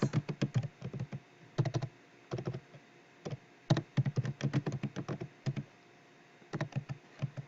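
Fingers type on a computer keyboard in quick bursts of close, crisp key clicks, separated by short pauses.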